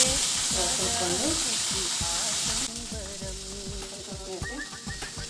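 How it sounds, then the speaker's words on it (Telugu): Chopped tomatoes sizzle and crackle in hot oil with fenugreek seeds, asafoetida, coriander seeds and mustard seeds for a quick tomato pachadi. The frying hiss is loud and steady at first, then softens halfway through, with music playing throughout. "మెంతులు, ఇంగువ వేగిన తర్వాత టమాటాలు కూడా వేసి చూసుకోండి."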